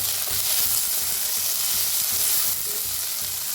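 Small local tomatoes roasting in a hot pan give a loud, constant close sizzle with light stirring bumps, steady throughout with a slight drop in intensity toward the end.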